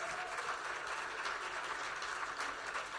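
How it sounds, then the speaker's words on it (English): A crowd claps steadily throughout, a dense, moderately distant round of applause. "Give yourselves a huge round of applause."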